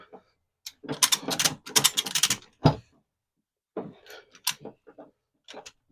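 A ratchet strap being tightened to secure a pallet in the back of a new cargo van, a run of quick close-up clicking ratchet bursts, then a pause and a few sparser clicks.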